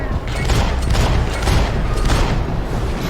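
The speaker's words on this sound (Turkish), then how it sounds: "silah sesi var" Heavy gunfire in a Max Payne 3 firefight roars as a dense, continuous barrage of loud overlapping shots and booms, sustained without pause at high volume.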